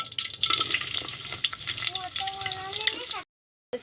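Chopped onion frying in hot oil for a whole masoor lentil curry, a steady close sizzle with stirring scrapes for about three seconds before it cuts to silence.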